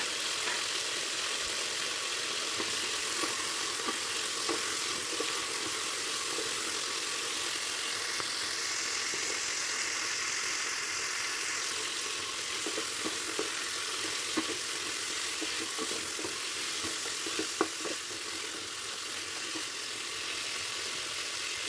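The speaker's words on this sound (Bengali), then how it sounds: "ফুলকপিগুলোকে দিয়েও আমি হালকা নাড়াচাড়া করে 2-4 মিনিট ভেজে নেব।" Potato and cauliflower pieces frying in a pan for a dalia khichuri, giving a soft, steady sizzle that runs on at low level with occasional light stirring scrapes and a faint engine-like hum underneath.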